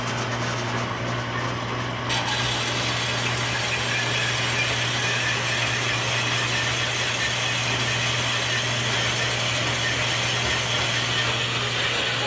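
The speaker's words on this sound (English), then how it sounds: "Slowest bandsaw ever. It gets the job done." A slow bandsaw cuts steadily through metal during fabrication work, a continuous close motor hum with a grinding rasp that holds for the whole stretch without a break.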